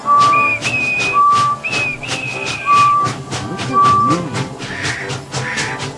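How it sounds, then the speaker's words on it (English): Short, bright steam locomotive whistle toots in the train game Trainz 2009 repeat over a busy background of steam-engine chuffing and music, with several clear blasts in a row. "And he blew his whistle"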